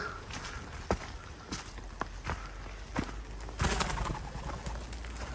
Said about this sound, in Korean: 새들이 인기척을 느끼고 날아가고 있습니다.